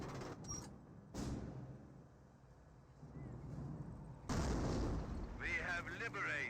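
Artillery barrage in the World War II strategy game Company of Heroes, with heavy booming blasts and rumbling impacts arriving in bursts, loudest toward the end, mixed with game voices and effects.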